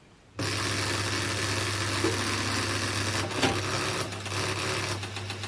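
An IBM Selectric III electric typewriter motor starts up suddenly and keeps whirring steadily with a mechanical hum and faint rattling.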